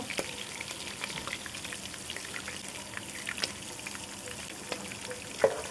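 Egg frying in a pan with chicken liver and chicken meat gives a low, steady sizzle and crackle, with a few soft stirring clicks and one sharper tap near the end.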